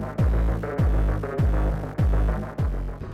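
A 755cc parallel-twin engine on a Honda Transalp XL750 throbs loud and close, revving in five sharp blips about half a second apart, each one surging and then sinking back to a rumbling idle.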